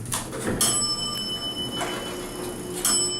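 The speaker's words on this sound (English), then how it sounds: "Listen to that bell." A bright electronic elevator arrival chime on a 1986 Montgomery hydraulic elevator rings out with a sustained, ringing tone, then sounds again near the end over a low mechanical hum.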